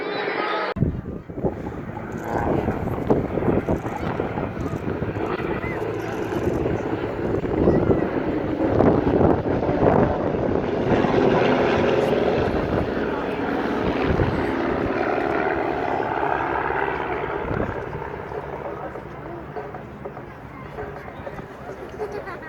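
Propeller aircraft flying in formation at the 2016 Southport Air Show, their engines droning loudly and steadily throughout with wind buffeting the microphone, swelling slightly as the planes reposition, while an announcer talks over the top.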